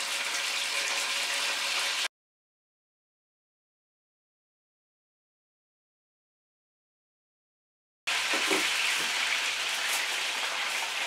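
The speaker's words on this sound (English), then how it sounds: "I have my hot skillet here with olive oil. And we're going to brown it" A Cornish hen browns in a hot skillet with olive oil, giving a steady, crackling sizzle like light rain that drops out completely for several seconds in the middle and then returns just as loud.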